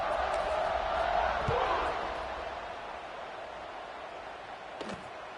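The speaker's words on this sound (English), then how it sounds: "and this crowd now ready to get behind them." Stadium crowd noise from a College Football 26 game between Virginia and NC State at kickoff, a broad steady roar that swells early then eases to a lower murmur, with a couple of brief thuds.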